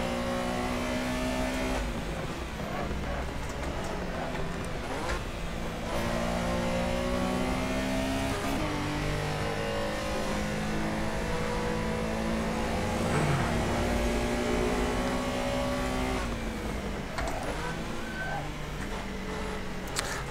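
Porsche Carrera Cup race car engines in a sim racing game whine and rise through gear changes. The loud, continuous revving runs throughout, with shifts and occasional speech underneath.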